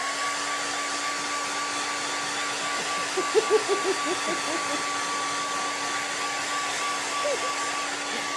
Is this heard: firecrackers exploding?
no